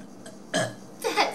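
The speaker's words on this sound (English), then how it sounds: "I got a burp." Two loud, close burps follow one another within a second, the second one longer and rumbling, in a burping contest.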